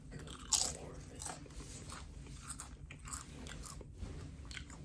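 A spicy chili snack in Japan is bitten with one sharp, close crunch, followed by softer repeated crunching chews.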